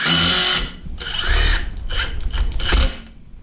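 A power drill set to drill mode drives a screw into a workbench build, whining loudly and close in a few strained bursts with brief pauses.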